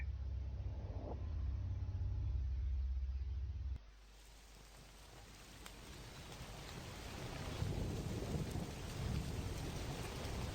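A rain sound effect in a radio horror story, with dense steady rainfall and low thunder rumble that cuts abruptly and returns as a bright, hissing downpour, with no voices.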